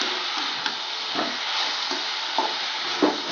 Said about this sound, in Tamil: வெங்காயம் தக்காளி வதங்கினோடனே கத்திரிக்காய் போட்டுக்கோங்க வதக்குறதுலேயே நல்லா வேகணும்